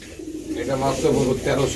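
A pigeon coos in low, soft, repeated throaty notes, close by at a pigeon sale, with a voice briefly audible alongside.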